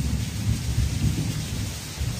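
A thunderstorm: deep rumbling thunder rolls under a steady wash of heavy rain, loud and continuous throughout with no pauses and no voices.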